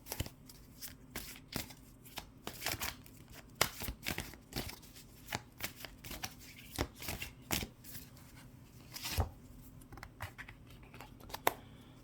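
Tarot cards shuffled by hand, close and fairly quiet, in a series of separate crisp snaps and riffles with short gaps between them and no voices.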